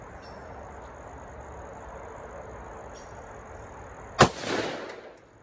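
A rifle fires a single sharp shot at a Tannerite target outdoors. The crack is followed by a rolling echo over a steady low background hum.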